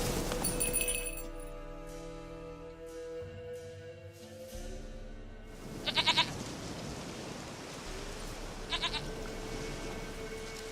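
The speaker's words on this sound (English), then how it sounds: "Goat of mine! Dearest, sweetest goat!" A goat in The Witcher 3 video game bleats over sustained musical tones. Bright glassy clinks ring out partway through, and no one speaks.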